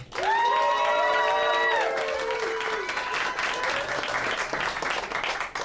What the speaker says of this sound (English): Make some noise if you think the winner is Eric